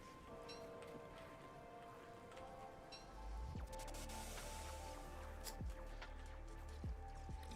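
Hail falling in the video game Don't Starve, a steady dense patter that thickens partway through, with a few sharper impacts over low rumble.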